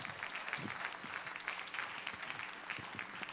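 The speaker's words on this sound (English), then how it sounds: "a big round of applause to all of them" An audience applauds the organizing team at the 8th Annual Presidential Forum on Tourism, a steady, fairly quiet wash of many hands clapping throughout, with faint voices mixed in.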